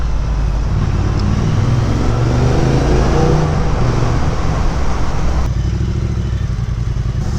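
A motorcycle on the road gives a continuous loud, close engine roar mixed with rushing wind and road noise, holding steady throughout with no talking.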